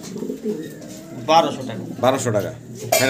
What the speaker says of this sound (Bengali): ভিডিওতে আপনারা যারা ঘুঘু পাখির ডাক শুনছেন